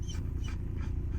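A dog pants steadily in short repeated breaths with faint whimpering, close and alone with no talk.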